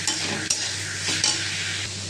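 Chopped onion and a green chilli frying in a pan, giving a steady close sizzle with a few sharp stirring scrapes throughout and no talking.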